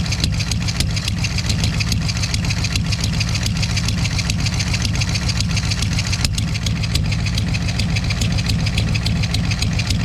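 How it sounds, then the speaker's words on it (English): A Chevy C10 engine idles steadily up close with an uneven, stumbling beat, as if one cylinder keeps missing. "Sounds like a dead miss."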